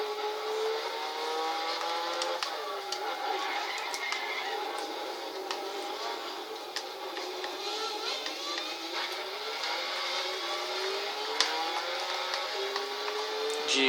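Autobacs Arta Garaiya race car engine in Gran Turismo 6, driven on a circuit, drones steadily with a bright whining tone that climbs and drops through gear shifts, holding at a constant level with no talk.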